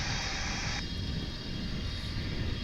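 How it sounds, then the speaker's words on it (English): Loud, continuous aircraft engine drone at DFW airport, with a high whining tone layered over a deep rumble, one bright component cutting out partway through. "I definitely hear an engine whining over there."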